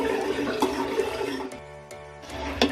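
Water is poured into a cooking pot holding peas while preparing a rice dish, making a steady close splashing rush that briefly thins and then resumes, with no talking.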